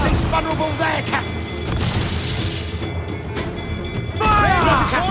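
Ship cannons fire in Assassin's Creed Black Flag, deep booms and crashes rolling over a noisy sea battle, with voices calling out between shots.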